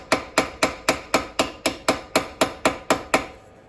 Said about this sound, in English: Using a little heavier hammer because of it.